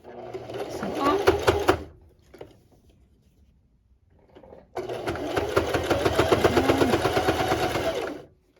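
Sewing machine running in two stitching bursts along the edge of a fabric face mask, a steady fast mechanical chatter with a quiet pause between runs, up close.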